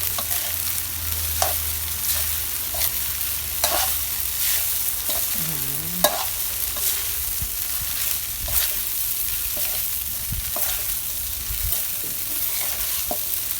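Rice and shrimp paste stir-fried in a pan, a steady close sizzle broken by repeated spatula scrapes and clacks throughout, with no voices.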